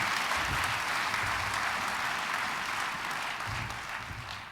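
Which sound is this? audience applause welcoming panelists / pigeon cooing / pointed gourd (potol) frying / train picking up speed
audience applause welcoming panelists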